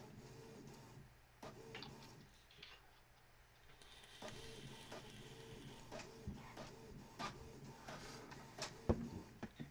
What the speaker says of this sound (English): I don't know what the printer's doing.